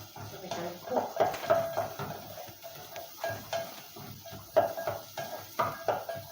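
A metal lid clinks onto a cooking pot of pumpkin soup with carrots inside, giving several light ringing taps and scrapes scattered over a few seconds while a person talks nearby.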